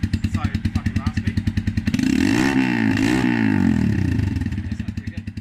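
A modified Keeway motorcycle idles with a lumpy, pulsing beat, then revs hard twice in a loud, rowdy burst before dropping back to a throbbing idle close to the listener.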